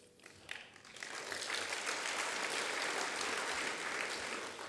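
Audience applause at a city government State of the City address, a dense steady clapping from a large crowd that swells quickly and holds at full strength throughout.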